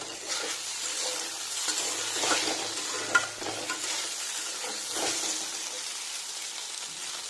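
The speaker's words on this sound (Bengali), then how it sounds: "নামাবার আগে একটুখানি পোস্ত দিয়ে মিনিট দুই একটুকু নাড়াচাড়া করে নিচ্ছি" Okra frying in a pan with poppy seeds while being stirred, a continuous soft sizzle with scraping and clinking from the spoon and a sharp knock partway through, close and without speech.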